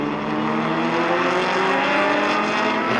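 Vintage race cars including Ferrari, Porsche and Shelby racing on track, a dense continuous roar of several engines at moderate distance, steady and unbroken.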